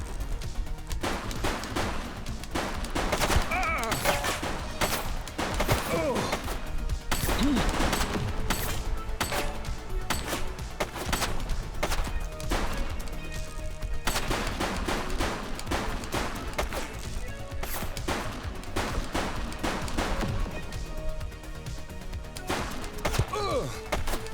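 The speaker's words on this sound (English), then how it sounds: "She's shooting!" Gunfire from a police shootout in The Precinct video game, dense bursts and repeated shots over a continuous loud mix of game music and effects, with a faint voice now and then.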